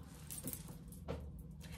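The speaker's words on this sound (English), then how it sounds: "You want to talk about branding? This is the key to the room." A set of hotel room keys jangles near the mic in two or three quick metallic rattles over a steady low room hum. Nobody talks.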